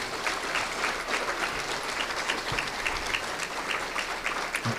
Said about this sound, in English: How about one more round of applause for all of our inductees tonight?